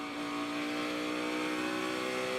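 A NASCAR race car engine during qualifying for the 2015 Quicken Loans Race for Heroes 500. It holds a steady, tonal droning pitch at a moderate distance, with no voices over it.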